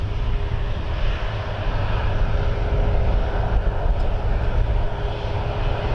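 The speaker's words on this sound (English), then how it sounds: "All right, another WestJet Max 8." A WestJet Boeing 737 Max 8 airliner at Toronto Pearson gives a steady, loud jet roar that holds evenly throughout, with no voices over it.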